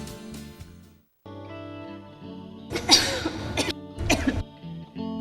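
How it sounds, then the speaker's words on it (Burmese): Thick, chesty coughing with phlegm in a cough remedy advertisement: after a stretch of background music, a harsh throaty cough bursts out, followed by a second heavy bout, loud and close. "ချွဲတလိတွေများပြီးချောင်းဆိုးနေတဲ့ပုံပဲ"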